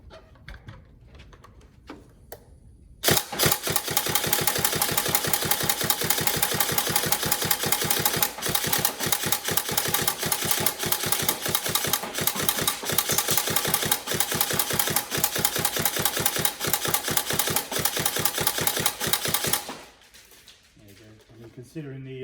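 An upgraded Tokyo Marui SCAR H NGRS airsoft gun, run on a 7.4 V 1300 mAh battery, fires a sustained full-auto burst of rapid, evenly spaced mechanical clacks for about sixteen seconds, then stops abruptly.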